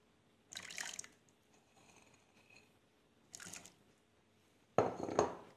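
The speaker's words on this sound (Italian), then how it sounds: "Ora ci aggiungo un po' di ceci neri." Black chickpeas are dropped into a small container of chickpea cooking water, giving three separate bursts of splashing and rattling, the last one loudest, in an otherwise quiet kitchen.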